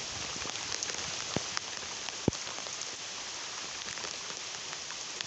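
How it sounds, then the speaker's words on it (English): Torrential heavy rain pours down during an intense thunderstorm in northwest Woking, UK, a dense, steady roar of drops hitting surfaces that continues unbroken, with a single sharp knock partway through. "The actual torrential heavy rain coming down across northwest Working Town right now."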